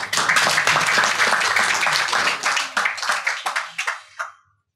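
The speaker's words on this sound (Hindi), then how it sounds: "जोरदार तालियां वापस।" Loud, dense clapping from an audience at a poetry recital that rises to a steady roar, then thins into scattered claps and fades out.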